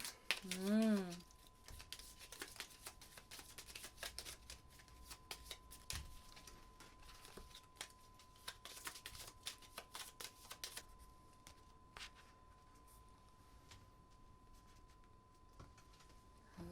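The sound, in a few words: shuffling playing cards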